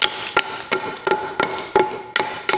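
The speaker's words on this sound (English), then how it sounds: "Would you take your hammer and go" A hammer knocks out the waste between saw cuts in wood for a homemade bed dolly, with sharp, loud, ringing strikes in an irregular rhythm, about eight blows spread over a couple of seconds and nearby, with no talk.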